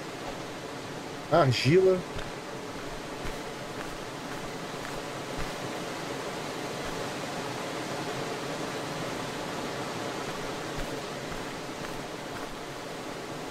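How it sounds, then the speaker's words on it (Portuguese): A waterfall at a desert oasis in the survival game Starsand produces a steady, even rush of falling water throughout, while a voice speaks briefly near the start. "Olha que beleza, tem a cachoeira aqui."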